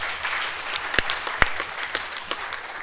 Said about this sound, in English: I think we can all give ourselves a big round of applause